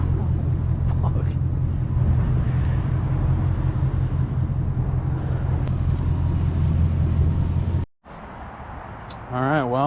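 A Ford Mustang GT 5.0 Coyote S197 V8 holds a brake stand burnout, its loud steady droning roar filling the air up close, then cutting out abruptly near the end. A voice comes through over the noise.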